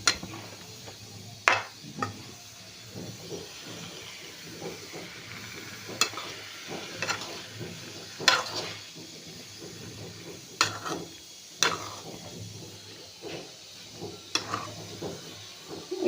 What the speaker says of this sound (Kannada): ಇವು ಬದ್ನಿಕಾಯಿನ ಸ್ವಲ್ಪ ಎಣ್ಣೆ ಒಳಗೇ ತಿರ್ಬಡ್ಕೋಬೇಕು ನೋಡ್ರಿ.